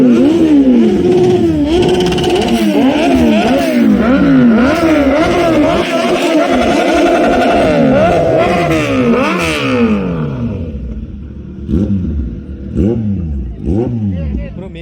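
Superbike engines of 1000cc to 1200cc such as a Hayabusa revving hard at a college event, loud rising and falling whines layered over each other, then thinning to a few sharper blips near the end.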